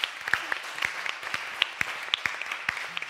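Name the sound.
audience applause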